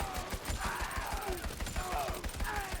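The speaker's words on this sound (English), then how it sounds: "the gunshots are a little quiet, I feel like" Quiet, rapid video game gunfire crackles steadily under a busy mix of other game sounds, the shots muffled rather than punchy.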